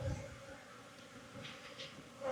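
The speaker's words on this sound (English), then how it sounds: "So there are a lot more bees in here that are getting a little bit more riled up." Riled-up honeybees in an opened hive in a Florida apiary, a faint, steady buzzing drone with a few slight swells, fairly distant and low in level.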